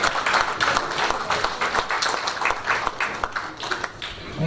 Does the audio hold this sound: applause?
yes